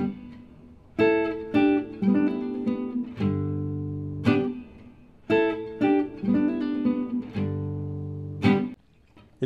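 Rhythm guitar double stops and melodic licks played slowly on an electric guitar, in ringing phrases separated by brief pauses, with picked attacks and sustained chords, close and clear with no talking.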